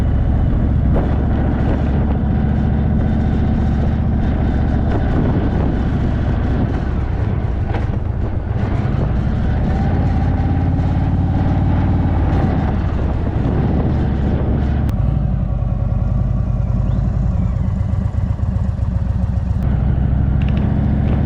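An Indian motorcycle rides through the town of Northampton, Australia, with a steady engine drone and heavy wind rumble throughout, close and loud.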